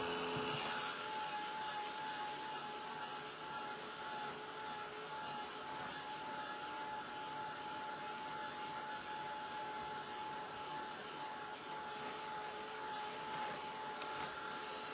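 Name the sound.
heat gun blowing while drying paint on a board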